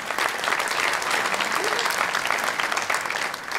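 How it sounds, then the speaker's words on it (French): Dense, sustained applause from an audience at a Swiss Solar Prize ceremony fills the whole stretch, steady and close, with no talk over it. "Je crois qu'on peut vraiment l'applaudir."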